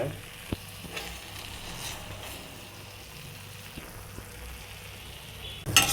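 Chili paste fries in ghee for a prawn ghee roast, giving a steady, soft sizzle with faint stirring clicks and a louder scrape near the end.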